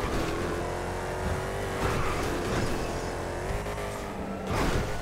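Steady car engine drone in GTA 5 during a police getaway, with harmonic tones shifting as it accelerates and a brief louder surge near the end, no talking over it.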